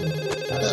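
A cartoon telephone rings in a short, continuous electronic tone, loud and close, with nothing else over it.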